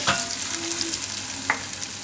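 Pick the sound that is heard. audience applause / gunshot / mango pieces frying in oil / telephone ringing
mango pieces frying in oil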